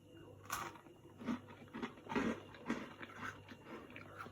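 Several crisp crunching bites and chews close to the mic, irregular bursts of a brittle jam-filled shortbread cookie being eaten, with no clear talking.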